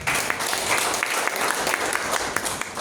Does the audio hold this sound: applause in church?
yes